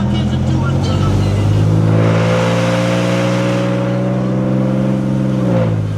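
A 1966 Chevrolet Nova with a six-cylinder engine, cruising on Maui, gives a loud, steady interior drone whose pitch climbs and then eases off, with faint voices mixed in.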